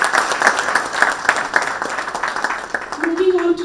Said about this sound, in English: A huge round of applause again for ma'am.